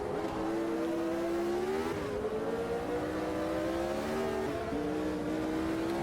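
A 1975 Formula One car in the Automobilista 2 racing game screams uphill on a track, its engine note climbing through gears. A brief dip comes at each shift, and the sound stays loud and steady from start to finish.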